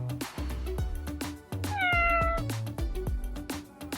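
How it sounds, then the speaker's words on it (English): A cat meows repeatedly, several loud, drawn-out meows close by, with rhythmic thumping beats running underneath throughout. "It's almost dinner time and he wants to stop meowing."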